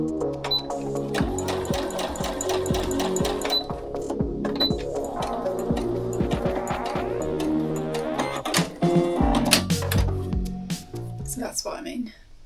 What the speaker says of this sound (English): Next I think I'm going to sew all these strips together and then turn it around.